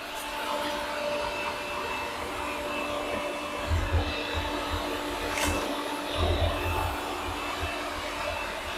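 A Yeedi K650 WiFi robot vacuum cleaner runs indoors with a steady whirring hum, broken by a couple of low bumps as it moves; no voices are heard.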